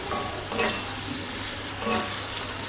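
Cabbage and pumpkin stirred with ground spices in a pan, a soft scraping stir with low sizzling, two brief louder strokes rising over a steady quiet hiss.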